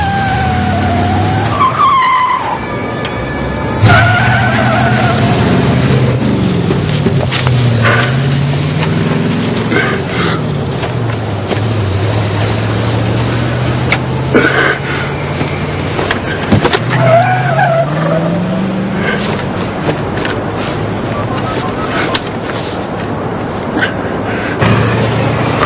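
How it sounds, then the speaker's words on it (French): A car engine starts and revs hard as the car pulls away, with loud tire squeals and skids that repeat over a long stretch of driving. "Démarre cette voiture!"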